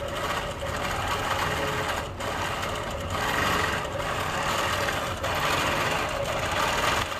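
A heavy longarm quilting machine runs continuously during free motion quilting, a close, dense mechanical whir with slight pulsing as the stitching speed shifts.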